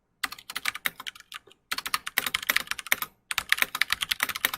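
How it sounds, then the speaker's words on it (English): Rapid keyboard typing, close and crisp, in quick bursts separated by short pauses. "And my typing's on point this morning."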